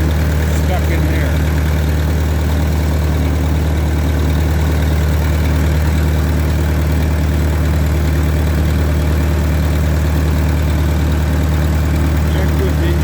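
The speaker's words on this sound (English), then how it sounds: "Check this engine running." A Caterpillar D2 crawler tractor's engine idles loudly and steadily close by, a deep even throb with continuous vibration throughout.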